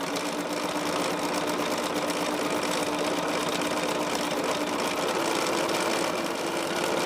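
A sewing machine fitted with a 37D quarter-inch foot stitches a tote bag strap in one steady, unbroken whir, loud and close, with no voices.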